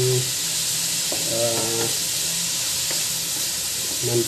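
Pork sizzles and hisses steadily in a pan as its fat renders for dinuguan, with brief stirring scrapes and a faint voice in the background.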